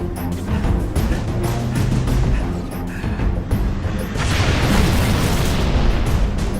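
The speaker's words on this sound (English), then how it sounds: "I want to use the rocket launcher on the last hunter to just finish him off in 4 shots" Rocket launcher shots blasting a Hunter on Legendary difficulty in Halo Reach's New Alexandria mission, a dense, loud wash of booming explosions and rumbling debris that swells stronger toward the end.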